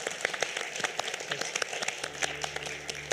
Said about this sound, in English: a round of applause to our esteemed panelists